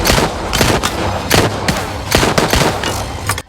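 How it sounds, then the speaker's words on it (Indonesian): Rapid, loud bursts of gunfire in a film scene, with many sharp overlapping shots in quick succession against a dense, noisy action soundtrack. "Bao menembak keduanya."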